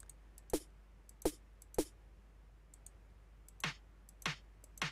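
Sharp, quiet computer mouse clicks, about seven of them, sound at irregular intervals in an otherwise still room, some coming in quick pairs.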